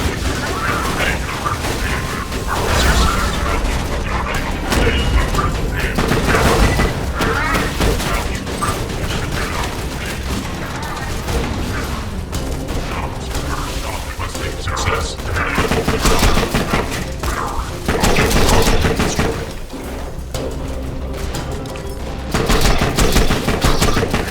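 The Rat-a-tatter gun in Borderlands 2 fires in rapid, dense bursts of game gunfire and impacts that keep going almost nonstop, with loud crackling volleys and scattered booms.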